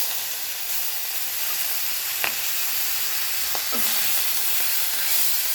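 Spice paste frying in oil in a kadai, giving a continuous close sizzle with a few faint clinks of stirring and no talk.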